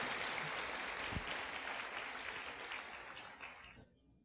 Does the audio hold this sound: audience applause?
yes